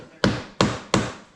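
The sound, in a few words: hammer knocking timber splice into place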